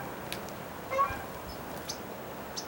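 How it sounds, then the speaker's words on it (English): Canada geese honk faintly by a river, a few scattered distant calls over a steady outdoor background hiss. "here comes some geese, Canadian geese."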